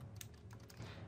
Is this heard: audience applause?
no